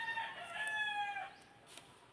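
A rooster crows once, close and clear, its call fading off, followed by faint clucking and a couple of soft clicks, at a place in the Philippines keeping many fighting cocks.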